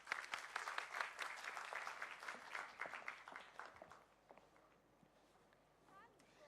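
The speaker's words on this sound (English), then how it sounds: "Please welcome her with a huge round of applause." A school TEDx audience breaks into applause, a dense burst of clapping that fades over about four seconds into quieter scattered sounds.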